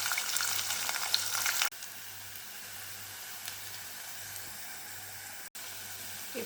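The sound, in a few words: onions and green chillies frying in a pan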